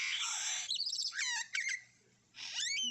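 A lyrebird sings alone with rich, fast-changing whistles, trills and mimicked calls in several bursts separated by short pauses, fairly close and clear.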